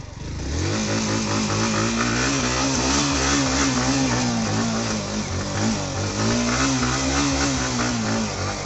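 An off-road motorbike engine revs loud and close on a muddy track, its pitch rising and falling in repeated surges over a steady rumble, with the bike slipping in the mud.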